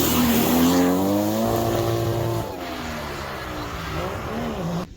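A drift car runs hard on a sunny track at an all-day drift jam in Portugal, its engine loud and close as it revs up and down under a steady roar of tire noise, then drops back and holds a lower, rougher note.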